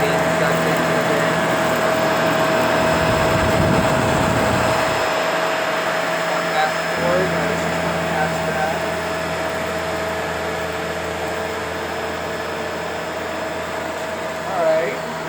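A Shark Powered Lift-Away vacuum cleaner sucks up dirt, sand, dust and debris with a steady, loud motor whine that holds throughout, with a brief rougher surge early on.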